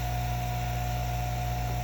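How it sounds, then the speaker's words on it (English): A vacuum pump motor drawing down a lidded chamber for silicone mold making hums steadily and loudly at close range, an even drone with no talk. "I'm going to turn on the noisy motor."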